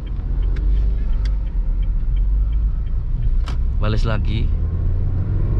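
A car's engine rumbles low and steady inside the cabin as the driver works the clutch and throttle while turning onto a main road. Someone speaks briefly partway through.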